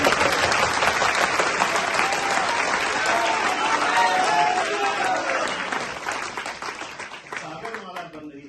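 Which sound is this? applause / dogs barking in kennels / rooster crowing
applause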